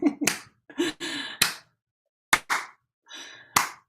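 Several separate hand claps and slaps, some as short clusters and some single and sharp, spread unevenly over a few seconds with brief quiet gaps between them.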